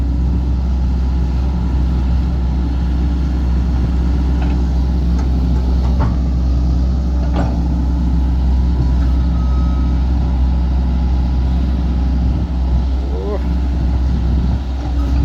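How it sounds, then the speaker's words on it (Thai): A low, even engine drone runs smoothly and continuously up close, with faint voices and occasional small clicks over it. "เสียงเครื่องนิ่ม อ่ะ"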